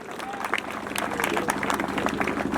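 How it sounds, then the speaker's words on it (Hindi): Audience clapping at a statue installation ceremony honouring a martyred soldier, a dense, steady burst of many hands applauding throughout, with crowd noise mixed in. "जोरदार तालियां, तालियों में कंजूसी नहीं होनी चाहिए।"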